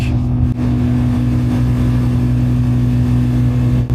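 A played recording of the turbine noise aboard the icebreaker Lenin fills the room with a loud, steady mechanical drone and deep hum, with brief dips.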